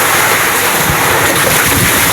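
Strong typhoon waves and gusting wind surge around a boat at sea, a loud, dense, continuous wash of surf and wind noise with no let-up.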